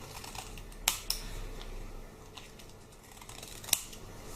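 Scissors snipping paper while a paper flower is made, heard as a few sharp, close, isolated clicks spread over a quiet background.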